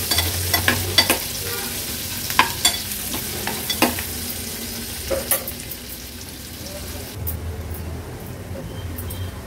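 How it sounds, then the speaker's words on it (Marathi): Chopped onion and curry leaves fry in oil over a medium flame, with a steady soft sizzle broken by intermittent scraping stirs of a spoon against the pan. "कढीपत्त्याची पानं, मीडियम फ्लेमवर कांदा आपल्याला शिजवून घ्यायचा आहे।"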